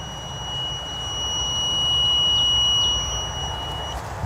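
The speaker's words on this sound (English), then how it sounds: "see if the meter rings" A continuity meter sounds a steady electronic tone for about three seconds while testing a phone line, over a low background hum, then cuts off.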